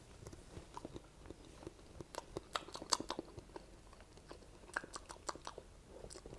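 A raw cocoa bean taken from a fresh cocoa pod is chewed close up, giving soft, irregular crunching clicks and wet bites over a quiet background.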